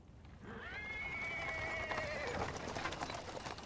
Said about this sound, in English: He is interrupted by the sound of wheels rolling on the paving stones. A cart drawn by a sad little horse appears from around the corner.